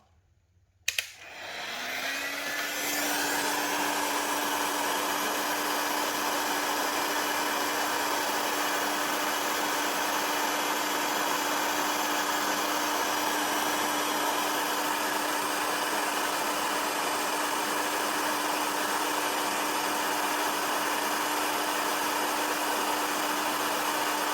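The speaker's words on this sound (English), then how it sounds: "as you can see, it took about 40 seconds for the fan to kick on." A newly installed automatic oil cooling fan on a BMW GS or RT motorcycle switches on after a short quiet moment, then runs as a steady, loud whirring drone with a constant hum, close by and with no talking.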